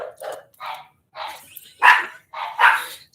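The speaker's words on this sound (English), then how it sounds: "She has literally the worst bark in the world." A dog gives a series of shrill, yappy barks in uneven bursts, some sharper and louder than others, close by with quiet gaps between them and no talking.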